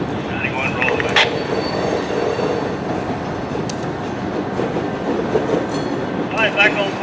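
Florida Central Railroad train Z915 rolls off the Seaboard main onto the ACL main in Orlando, a steady rumble with brief high squeals and clanks near the start and end, while a radio voice talks briefly.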